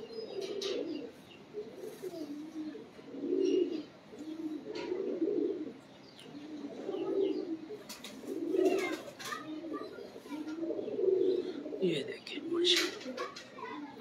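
Small pigeons at a pigeon-keeping setup coo in soft, repeated rolling phrases every second or two, fairly close, with occasional chirps and wing sounds while someone talks over them.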